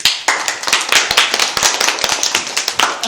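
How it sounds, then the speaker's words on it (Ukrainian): An audience applauding on cue at the start of an acting class, a dense burst of clapping that fills about three seconds, close and loud, with sharp hand slaps throughout and no talk. "Ваші аплодисменти."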